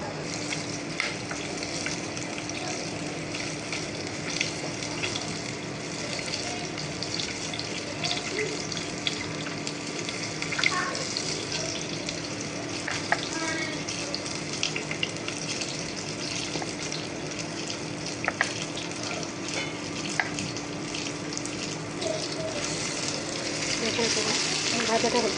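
Chicken pieces fry in hot oil for a crispy chicken fry, giving a continuous bubbling sizzle with small crackles and occasional utensil clinks throughout.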